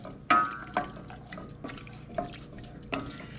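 Carrot ginger soup stirred in a pot, a few separate wet clinks and sloshes of a utensil against the pot, quiet and close, with no voices.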